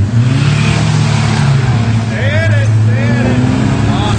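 A truck engine revs loudly and steadily while the vehicle sits stuck in snow, a continuous low roar with rising and falling pitch, and voices talk over it.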